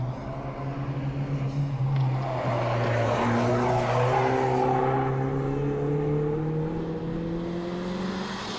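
A Mitsubishi Lancer Evo VI or Colt CZT engine's deep, steady rumble fills the whole stretch, its pitch slowly climbing as it revs, loud and close with no voices.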